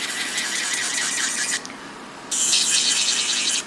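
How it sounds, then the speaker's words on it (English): Electric nail drill bit etching the underside of a Gel-X nail tip: a high, rasping whir that runs steadily, cuts out briefly, then returns louder and brighter, close and alone. "I'm going to take my drill bit and I'm going to etch out where it's going to touch my natural nail."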